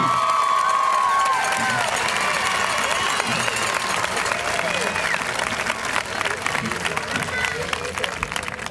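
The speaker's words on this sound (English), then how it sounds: "Let's all give one more round of applause as an entire group to this great class of 2013." Graduation audience at a 2013 high school ceremony breaks into sustained applause and cheering, a dense wash of clapping with scattered whoops and shouts filling the hall throughout.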